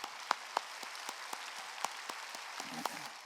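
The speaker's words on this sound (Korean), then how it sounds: "하나님께 박수 쳐요" Church congregation at a Sunday service applauding in a faint, thin patter, with a few sharper claps standing out and a soft voice briefly heard toward the end.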